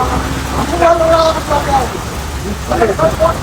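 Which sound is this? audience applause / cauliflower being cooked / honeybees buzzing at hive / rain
rain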